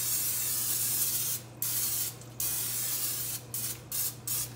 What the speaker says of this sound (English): Right here, we're going to spray with cooking spray.